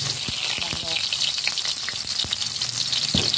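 Garlic and onion sauté in a hot pan for pork and chicken adobo, with a loud, continuous frying hiss and scattered spatula taps and scrapes.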